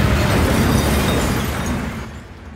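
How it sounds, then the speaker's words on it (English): A loud explosion sound effect from Sample Logic's Trailer Xpressions II cinematic trailer sample library bursts and then rumbles, fading off over a couple of seconds, with no talking. "it looks like we got some explosions and weapons"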